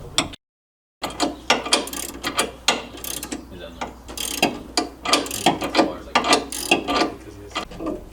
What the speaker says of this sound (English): these have a hex key that you use to hold them while you tighten them with a wrench